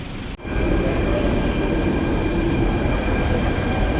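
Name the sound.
metro train at a metro station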